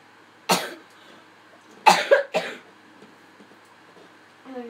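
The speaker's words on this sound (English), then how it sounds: "it's my first time coughing" Several harsh coughs in quiet surroundings: one sharp cough, a pause, then a quick cluster of three, with faint breathing after.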